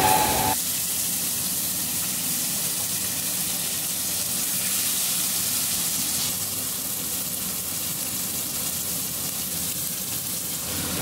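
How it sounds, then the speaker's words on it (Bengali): Fish frying in hot oil gives a steady, loud sizzle that carries on without a break, with no talking over it. "মাছগুলো ভেজে নিচ্ছি।"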